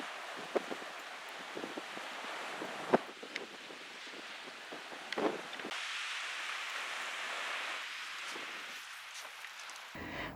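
Strong wind gusting across the microphone at Finch Bay beach, a steady broadband roar with buffeting bursts and rustling throughout, no talking.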